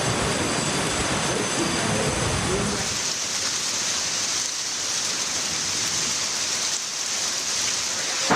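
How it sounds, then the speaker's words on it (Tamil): Heavy rain pours down in Bengaluru during a thunderstorm with strong winds and hail, a dense, steady roaring hiss that stays loud and unbroken throughout, with a low rumble early on that fades. "பெங்களூருவின் பல்வேறு பகுதிகளில் இடி மின்னல் மற்றும் பலத்த காற்றுடன் கூடிய கனமழை கொட்டி தீர்த்தது"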